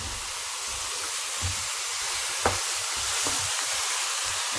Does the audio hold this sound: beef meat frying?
yes